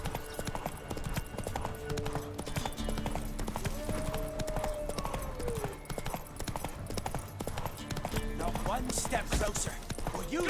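Steady clip-clop of horse hooves at a quick gait in The Witcher 3: Wild Hunt, continuous and fairly close under game music and ambience, with a person talking over it in places.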